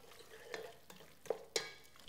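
Spoon stirring browned vegetables and tomato deglazed with red wine in a pot while making French brown stock: soft scraping and faint sizzling with a few sharper clicks of utensil against metal, quiet and close.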